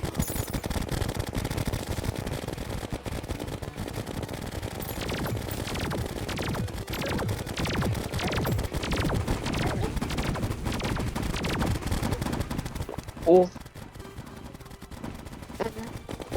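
Rapid repeated laser blasts in the video game Terraria, Expert mode, rattling steadily like machine-gun fire for most of the stretch, then a single sharp burst before it thins out, with voices talking over it.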